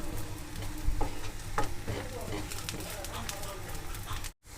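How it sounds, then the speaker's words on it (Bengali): A paratha made with drumstick frying in a pan with half a spoon of white oil, giving a close, steady sizzle with soft scraping touches, while birds coo faintly in the background and it briefly drops out near the end. "অল্প পরিমাণে তেল দিয়ে দেব একদম হাফ চামচ মতো সাদা তেল দিলাম আমি পরোটাটাকে ভাজার জন্য"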